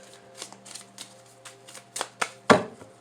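Tarot cards being shuffled by hand, a series of soft riffling bursts that grow louder and crisper toward the end, close and alone.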